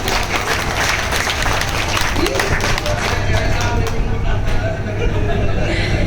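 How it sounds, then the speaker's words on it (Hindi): A crowd bursts into loud, sustained applause for an elderly poet after a recited song at a poetry gathering, dense clapping holding steady throughout with a faint murmur of voices beneath. "एक बार उनके लिए जोरदार तालियां"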